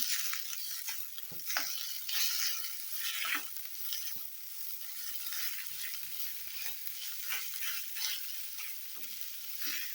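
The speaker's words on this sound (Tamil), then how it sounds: "இதில் மசாலா பொருட்களையும் சேர்த்துட்டு இப்போ கொஞ்சம் நல்லா வதக்கிக்கலாம்" Ground masala being sautéed in a pan for peas pulao: a soft, continuous sizzle with occasional scraping strokes of a spoon stirring the paste, heard close up and fairly quiet, with no talking.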